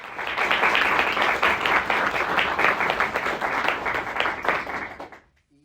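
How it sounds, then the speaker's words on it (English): An audience claps loudly and steadily at a talk on mosquito prevention and citizen science, the dense applause holding for about five seconds before cutting off abruptly. "Just a big round of applause."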